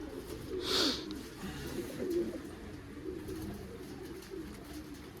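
White pigeons coo in low, rounded calls that repeat steadily over a constant murmur of background noise, with one brighter, louder burst near the start.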